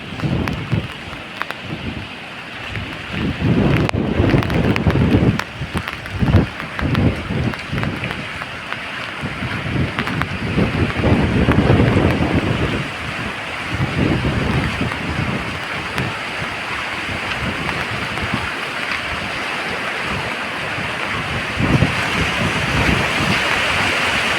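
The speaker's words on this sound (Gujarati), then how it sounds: "રસ્તા ઉપરથી કેટલું પાણી જાય છે રસ્તો હાવ બંધ છે અટાણે ફૂલ વરસાદ એકદમ ચાલુ છે" Heavy rain and floodwater rushing over the closed Jamnagar–Khambhalia highway make a loud, continuous roar of pouring and flowing water with gusty surges throughout.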